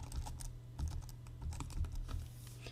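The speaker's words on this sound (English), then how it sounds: "you simply just click anywhere you wish the text to be, and then you type your message" Soft, fairly quiet key taps on a computer keyboard, typed in an irregular patter over a steady low hum.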